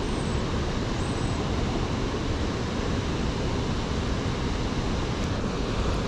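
Water rushes hard and continuously near a dam where people are fishing, a dense, loud, unbroken roar close by with no pauses and no voices.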